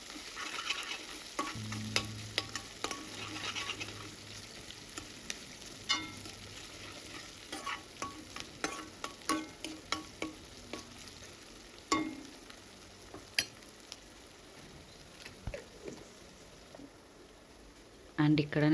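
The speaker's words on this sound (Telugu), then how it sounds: "ఈ పేస్ట్ అనేది పచ్చివాసన పోయే వరకు బాగా వేయించుకోవాలి" Ginger garlic paste frying with onions in a pan for home-style egg rice: a soft continuous sizzle under a string of sharp spatula scrapes and taps that grow more frequent toward the end.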